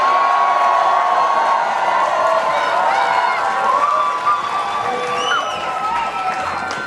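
A large outdoor folk festival audience roars with cheers, whoops and some clapping, loud and sustained, gradually easing toward the end as individual shouts stand out.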